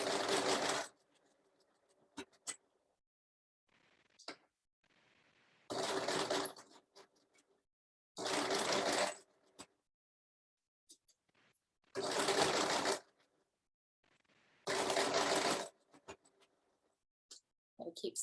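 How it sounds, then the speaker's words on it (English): A sewing machine stitches fabric seams in five loud, steady bursts, each lasting a second or two, separated by quiet pauses with small clicks and handling sounds. "as you are stitching through and your seams that are facing towards your needle, just kind of push those down before they go under your presser foot"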